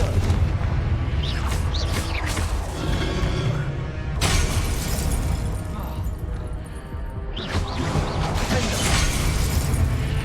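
Fiery Confringo spell blasts in Hogwarts Legacy combat, loud booming bursts with crackling debris that recur across the stretch, separated by a brief lull.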